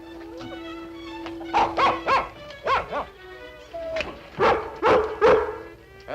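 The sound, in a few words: dog barking and yipping in a crate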